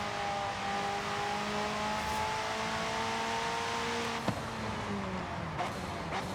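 A car engine drones steadily while driving in Forza Horizon 5, its pitch rising slowly through the gears, with a few sharp clicks near the end.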